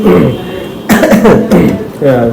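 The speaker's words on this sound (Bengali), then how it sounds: "খুশিতে আমার কাশি চলে আসছে" A close voice breaks into a few harsh coughs between bits of talk, loud and abrupt.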